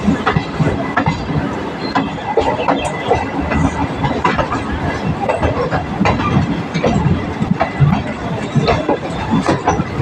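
A train pulls into Sealdah station with a steady, loud rolling rumble and rhythmic wheel clatter on the rails, continuous for the whole stretch and close by.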